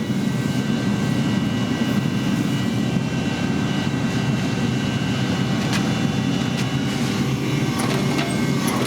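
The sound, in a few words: propane forge burner blowing on a sword billet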